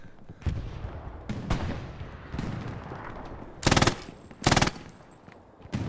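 Machine gun fire in the Hell Let Loose video game: two loud sustained bursts of rapid automatic shots near the end, preceded by scattered single gunshots and distant firing over a noisy battlefield.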